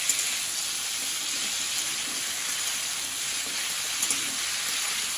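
Large tiger prawns frying in oil in a big kadai, a loud continuous sizzle with sharp spattering pops dotted throughout, close and steady with no talk.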